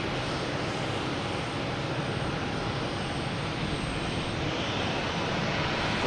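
An Alaska Airlines jet arrives at Boston Logan Airport with a loud, dense, unbroken engine roar that stays constant for the whole stretch, heard alone without talk.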